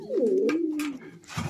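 A pigeon coos close by, one soft throaty warbling call that rises and falls, followed by faint rustling and a brief low thump.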